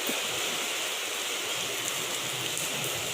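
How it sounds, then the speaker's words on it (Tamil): Heavy morning rain in Coimbatore pours down in a dense, unbroken roar, a loud and steady wash of drops with no voices. "கோயம்புத்தூரில் சரியான மழைங்க, பயங்கர மழை"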